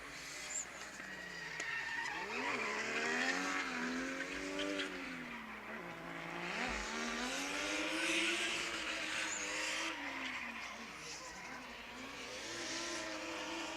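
Race cars drift at a speedway drift expo. Engines rise and fall in long wailing sweeps while tires squeal steadily, heard from a moderate distance with no voices.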